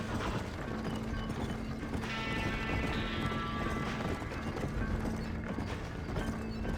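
Horse hooves clip-clopping steadily in a Western open-world game, a close, rhythmic trot under faint mechanical creaks, with no talking.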